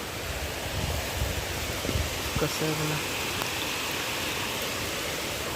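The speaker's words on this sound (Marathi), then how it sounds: "आला आहे जोरदार पाऊस" Steady heavy monsoon rain hisses throughout near a village temple in Konkan, broad and unbroken, with a brief voice speaking over it.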